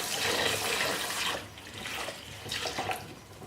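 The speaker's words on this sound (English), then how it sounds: "Simply run it under warm water, add some detergent, get it really well washed through" Warm tap water runs steadily while a cloth is washed out with detergent in a sink, a close splashing gush that swells and dips with brief surges, no voices present.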